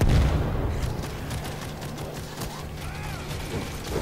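Turret gunfire in the video game World War Z thuds out in a dense, rumbling barrage with booms and mechanical clatter. It is loud and continuous and stays under the game's ambient noise.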